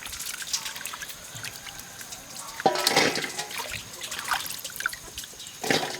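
Tomatoes rubbed and rinsed under a running kitchen tap, a steady trickle of water with splashes and dribbles, close by, surging louder at moments as hands move through the stream.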